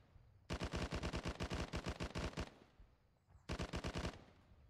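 Machine gun fire in a jungle combat video game, two rapid sustained bursts of loud evenly spaced shots, a long burst followed after a short pause by a shorter one, with no talk over them.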